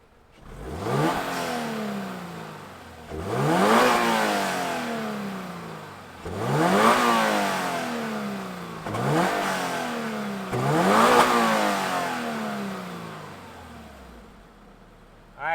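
A 2022 Subaru BRZ Limited with a 2.4-liter engine is revved five times in a steady rhythm, each rise climbing sharply, peaking and then falling back to idle, loud and close with no talking.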